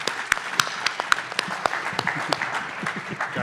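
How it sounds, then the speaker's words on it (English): Conference audience applauding as speakers walk onto a stage at an identity security event, steady clapping from a crowd with a few sharper close claps and faint voices underneath. "So give them a round of applause as they're walking up here."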